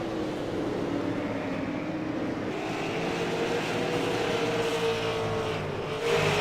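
Three race cars battle closely around the Las Vegas Bullring oval in a sim racing series, their engines a moderately faint, continuous roar with pitch rising and falling as they pass, swelling slightly at the end.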